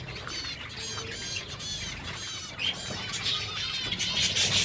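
Pet finches chirping in a cage, a busy run of high, thin tweets and trills going on throughout, fairly close, with a soft fluttering patter underneath and no voices.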